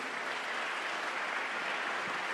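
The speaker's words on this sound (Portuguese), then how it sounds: "Se você crê, dá um aplauso ao nome do Senhor aí." A church audience at a Portuguese theology workshop applauds with a steady, faint, distant wash of clapping that holds evenly for the whole stretch, without talk over it.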